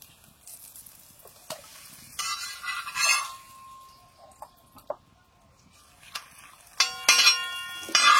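Paratha frying in oil, with intermittent bursts of crackling sizzle and a few sharp clinks of utensils against the pan, fairly close and with no talking.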